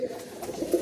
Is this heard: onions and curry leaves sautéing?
no